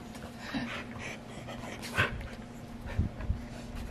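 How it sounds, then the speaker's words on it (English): A puppy pants rapidly and lets out small whimpers close by, with a few louder breathy bursts and soft thumps in a quiet home. "It's the puppy."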